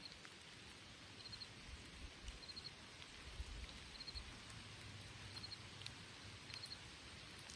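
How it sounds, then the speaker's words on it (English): Steady, soft rain patter in Pennsylvania woods with a faint hiss, continuous and even throughout, with small bird chirps faintly in the background. "but it's raining right now."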